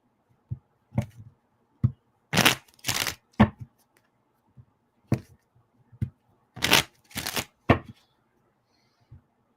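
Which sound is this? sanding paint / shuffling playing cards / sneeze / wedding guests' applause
shuffling playing cards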